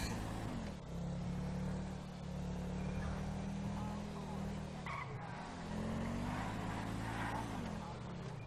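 Police car on patrol in France, its engine rumbling steadily up close with tire noise as it drives slowly through town streets, people chatting inside the car over it.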